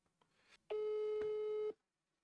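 A telephone ringing tone sounds once during a call: a single steady electronic tone lasting about a second, with faint soft noises just before it in an otherwise quiet line.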